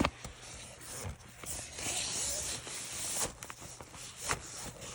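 An iPad Pro in a keyboard case slides into the tablet pouch of a SOLO 17.3-inch laptop backpack, giving close, quiet rubbing and scraping of fabric with a few soft bumps over several seconds.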